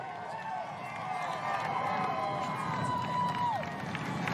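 Roadside crowd at the Tour de France stage in Ilkley, with the moor behind, roars in a steady wash of cheering and shouts, fairly distant and continuous throughout.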